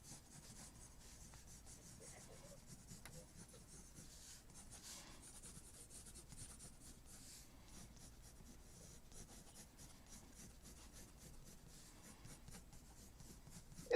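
A pencil draws on paper in a steady run of soft scratchy strokes. It stays close and quiet for the whole stretch, with no talking over it.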